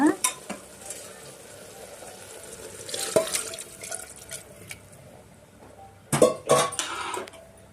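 A spoon scrapes and stirs mutton curry in a pan, close up with soft sizzling and a few sharp clinks against the metal, loudest near the end, with no talking.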